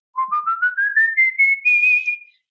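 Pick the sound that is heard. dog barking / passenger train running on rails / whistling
whistling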